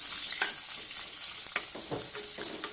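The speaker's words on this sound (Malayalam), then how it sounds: "സവാള ഇനി എണ്ണയിൽ കിടന്ന് ഒന്ന് ബ്രൗൺ കളറായിട്ട് വരണം." Sliced onions frying in oil with fenugreek seeds for an okra curry: a steady, close sizzle with scattered crackles and the occasional scrape of stirring, with no voices.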